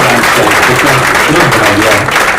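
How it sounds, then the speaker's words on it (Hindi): Loud, dense applause from a large audience at an album launch event fills the room after a dance performance, a steady wash of clapping throughout. "एक बार जोरदार तालियां प्राची।"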